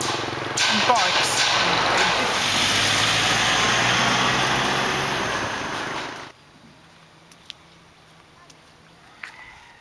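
Motorbikes in traffic in Ninh Binh, Vietnam give a loud, steady engine roar close by for about six seconds, then it cuts off to a quiet background with faint scattered noises. A voice speaks over the roar.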